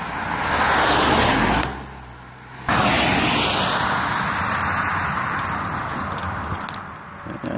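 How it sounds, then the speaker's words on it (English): A truck passes on a road with a loud roar and rushing wind, briefly dropping away, then surging back close and staying loud as it goes by, with no talk heard. "Comes another truck now"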